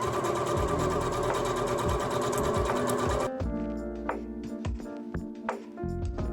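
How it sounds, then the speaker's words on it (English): Sewing machine zigzag stitching through layered fabric: a loud, rapid, continuous mechanical whirr that slows into separate stitching clicks and thumps partway through, close up, with no voices. "I just layered them and zigzag stitched them until it was done"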